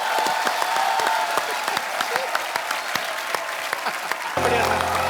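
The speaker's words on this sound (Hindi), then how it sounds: "तालियां।" Studio audience at a comedy talk show applauding, a dense burst of many hands clapping with brief cheering, ending as music comes in.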